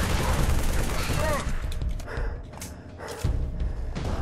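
A Brute Shot weapon fires in Halo 3 ODST, loud booming launches and explosive impacts overlapping with other gunfire in a busy firefight, with a voice talking over the action.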